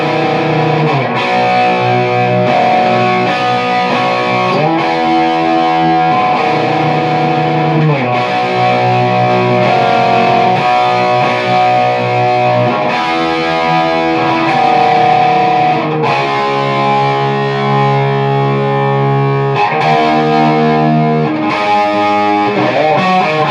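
Heavily distorted electric guitar plays a chorus section from a song, steady loud chords with a melodic lick, a continuous, dense wall of sound.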